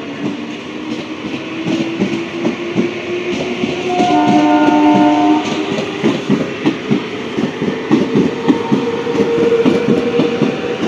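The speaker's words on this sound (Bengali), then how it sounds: "এদিকে হচ্ছে 552 শিয়ালদা শান্তিপুর গ্যালোপিন লোকাল।" The 552 Sealdah–Shantipur galloping local train rushes past close by, a loud horn blast sounding early, then a rhythmic clatter of wheels over rail joints as the carriages roll through.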